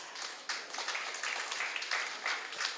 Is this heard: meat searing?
no